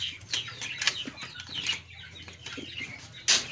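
Siraji pigeons flap their wings in a loft, a series of soft, quick fluttering bursts, close by, some faint clucking-like sounds among them, and no talk.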